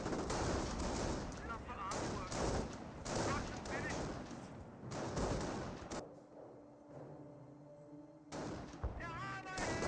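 Gunfire from a Greyhound armored car and infantry weapons in Company of Heroes, with rapid crackling bursts and thuds across a busy battle scene, then a quieter moment before firing resumes.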